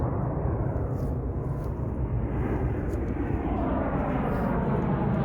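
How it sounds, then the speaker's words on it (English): A loud, steady roar of a propeller airplane passing overhead, a continuous rumble that fills the whole stretch without a break. "Never-ending planes."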